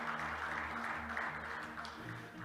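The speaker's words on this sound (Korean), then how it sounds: "박수 부탁드립니다" An audience at the opening ceremony of a winter academic conference on local autonomy gives a brief, steady round of applause over soft background music, fairly distant and even throughout.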